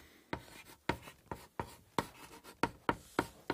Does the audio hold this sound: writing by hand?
yes